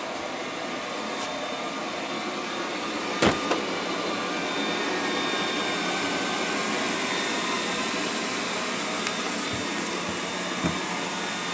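A Liectroux B6009 robot vacuum cleaner runs with a steady, close whirring drone throughout, broken by a few faint clicks and bumps.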